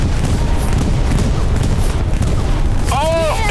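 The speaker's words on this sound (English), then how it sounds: "Oh, there's the bombs!" Air strike bombs explode in Hell Let Loose as a continuous loud rumbling roar of blasts, with a voice shouting excitedly near the end.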